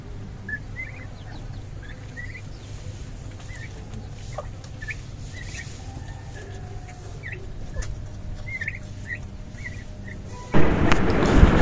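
Broody hens, a black hen and a Chinese hen sitting on eggs in a backyard poultry setting, cluck in short soft repeated calls against low steady background noise, ending in a louder burst of rustling or wind.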